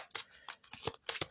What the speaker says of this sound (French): On va prendre une carte du petit Lenormand de l'enchantement.